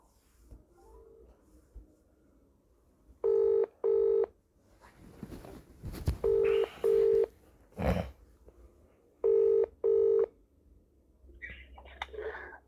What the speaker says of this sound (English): Ring up Graeme Kenna.